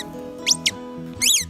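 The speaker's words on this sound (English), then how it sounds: "Love the squeaky toys." Dog's squeaky toy squeaking in three quick, high-pitched squeaks, two short ones close together and then a longer wavering squeak, heard close by against a faint steady hum.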